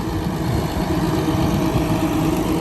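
A John Deere 7930 tractor engine runs at a steady idle, a continuous low rumble with a throbbing texture, close and loud with no voices.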